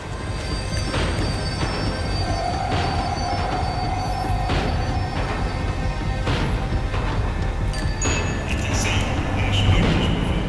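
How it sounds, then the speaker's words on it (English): A tram in the video game Max Payne 3 rumbles loudly along the rails, wheels squealing and metal clanking as it slows, with a steady low mechanical drone underneath. "The tram was slowing down, and I'd only just gotten on board."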